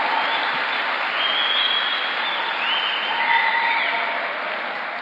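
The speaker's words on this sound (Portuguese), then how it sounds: "Pode aplaudir o Senhor." A church congregation applauds during a Sunday worship service: dense, steady clapping from a large crowd, loud and close, sustained evenly for several seconds without any voices over it.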